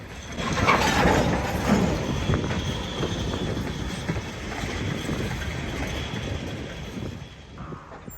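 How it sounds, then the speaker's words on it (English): A freight train of empty log cars rolls past with a steady rumbling roar and faint rattling of cars, loud and continuous before tapering off slightly at the end. "These empty log cars are returning from North Bend at the Ocean Terminal's log yard."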